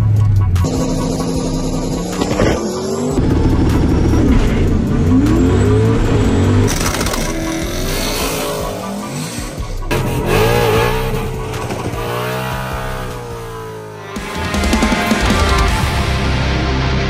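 A Ford 363 stroker stick-shift drag car, NMRA approved with a back seat, revs and accelerates hard at a no-prep race, its loud engine roaring close with rising pitch sweeps and gear changes, tire noise mixed in, no talking.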